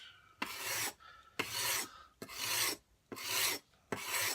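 A plane iron rubbed back and forth on sandpaper, five steady gritty strokes about a second apart, each a broad raspy scrape with short pauses between, close and clear with no voices.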